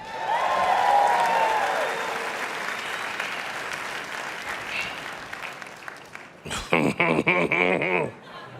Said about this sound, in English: Can we give a round of applause for Ego?